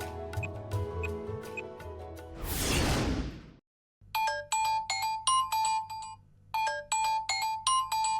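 A mobile phone ringtone plays as a bright, repeating electronic melody in short bursts, near and clear, after a whoosh and a brief silence. Soft music plays before it.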